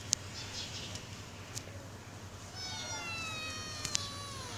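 A black cat lets out a short, faint meow close by, then a longer, rising plaintive meow against a low background hum.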